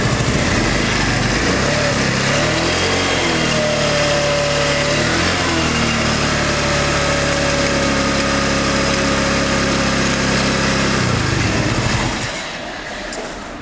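A new automatic 125cc scooter engine runs steadily at idle, loud and close, with a constant droning hum that holds for around eleven seconds before dropping away, leaving quieter background noise.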